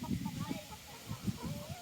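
Chickens in a backyard flock cluck softly and intermittently nearby, a scattering of short, quiet calls with a faint rising squawk near the end.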